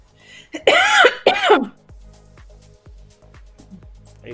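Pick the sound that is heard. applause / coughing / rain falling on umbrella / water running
coughing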